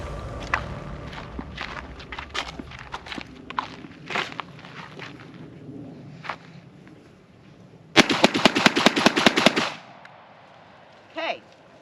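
Benelli M4 semi-automatic shotgun firing slugs outdoors, heard as a rapid string of about eight to ten loud, sharp blasts packed into two seconds, preceded by scattered quieter pops and shuffling, with one more faint shot near the end.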